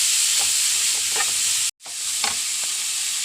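Chopped shallots, garlic and ginger fry in a pan with a loud, steady hiss, a few soft stirring scrapes, and a brief cut in the sound partway through.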